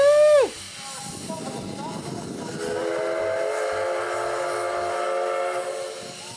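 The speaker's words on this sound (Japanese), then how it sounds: "本物の蒸気機関車の迫力を間近で感じることができます。" A steam locomotive, the SL Steam at the Kyoto Railway Museum, gives a short whistle blast, then settles into a steady hiss with a sustained whistling tone close by.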